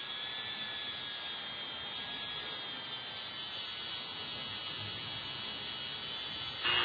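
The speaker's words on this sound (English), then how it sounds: "Gonna finish buffing up these screws" A buffing wheel polishes screws, giving a steady, even, high-pitched whir throughout that rises slightly in loudness at the very end, with no talking.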